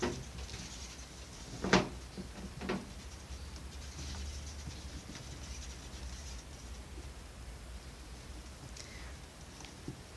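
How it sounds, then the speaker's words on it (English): Wire doors on a pet rat cage are swung shut, giving a sharp metallic clack near two seconds and a softer one shortly after, then only faint rustling and low room hum. "But I will show you what the cage looks like with all of the doors closed."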